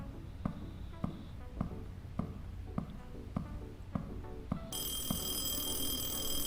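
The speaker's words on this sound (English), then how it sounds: "The phone is ringing." A telephone in the horror video game A Hand With Many Fingers starts ringing near the end with a bright, sustained electronic ring, after a run of evenly spaced dull thuds.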